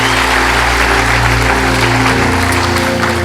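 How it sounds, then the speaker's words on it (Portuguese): Church congregation applauding together, a steady dense wash of clapping held loud and full over a low sustained musical drone, without any voices rising above it. "Dê um aplauso para a vida dele."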